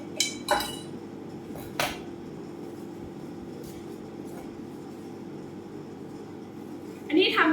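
A spoon stirs fresh cocoa water to dissolve it, giving a few sharp metallic clinks against the container near the start and again at the end, with a quiet room in between.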